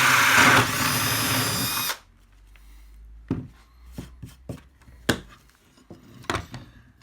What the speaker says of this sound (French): Et voilà, voilà le perçage.